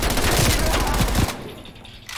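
Shotgun blasts from Call of Duty multiplayer burst loudly in quick succession, heavy booming shots packed together before cutting off into quieter game ambience.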